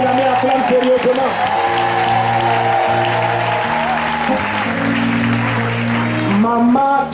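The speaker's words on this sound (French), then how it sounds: "Si tu vas acclamer, acclame sérieusement." A church congregation breaks into sustained, dense applause and cheering, loud and continuous throughout, with voices rising within the crowd noise.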